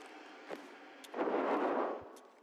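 A frag grenade exploding in a video game, a muffled rumbling blast that swells and fades over about a second, preceded by a few sharp thuds and pops, moderately loud with no talk.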